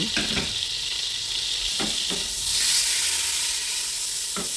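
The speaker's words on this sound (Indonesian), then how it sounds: "Tunggu sampai margarinnya meleleh dan cukup matang." Margarine melts and fries in a hot pan on a stove, giving a steady, loud sizzle with a few sharp stirring scrapes and no voices.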